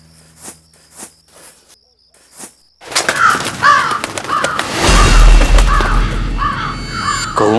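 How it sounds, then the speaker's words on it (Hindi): Several crows caw in harsh, repeated bursts, close and loud, over a rising rumble and scattered insect chirps, after a quiet stretch of faint clicks and footsteps in a tense, eerie setting. "कौओं की आवाज"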